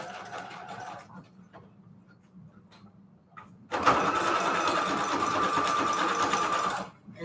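A sewing machine runs in a short burst, stops amid quiet clicks, then stitches steadily at speed through fabric for several seconds before halting.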